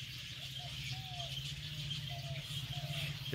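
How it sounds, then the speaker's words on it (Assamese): Wild birds in an egret and cormorant nesting area near Nalbari town, Assam, give short, spaced, whistled calls at a moderate distance over a steady low hum and background hiss. "এইবিলাক পানী কাউৰী"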